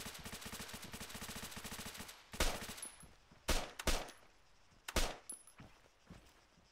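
Gunfire in the military game Arma 3: a rapid automatic burst rattling for about two seconds, then several loud separate heavy shots and short volleys, close and forceful, with no voices.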